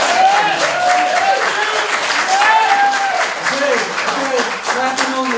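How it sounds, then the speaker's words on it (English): Debate audience applauding in a Jersey City mayoral debate hall, a steady wash of clapping throughout with voices and crowd murmur running under it. "Clapping is good."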